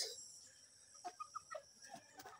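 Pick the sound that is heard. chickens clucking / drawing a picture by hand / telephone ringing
chickens clucking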